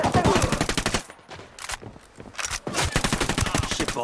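Bursts of automatic gunfire in Ghost Recon Wildlands, loud rapid rattling volleys in several clusters with short pauses between them.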